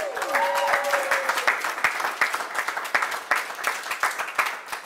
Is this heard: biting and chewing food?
no